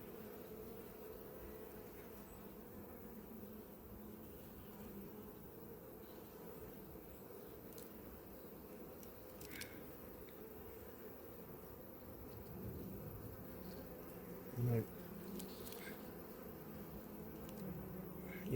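Honeybees hum around an open hive at an apiary with a low, continuous, faint drone. A few brief louder buzzes pass close by, and no one speaks.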